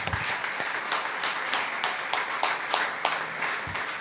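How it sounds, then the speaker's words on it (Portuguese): Congregation in a church clapping together in praise, a sustained roomful of applause with individual claps standing out in a loose rhythm, fairly loud and continuous without speech. "Pode aplaudir ao Rei dos Reis comigo?"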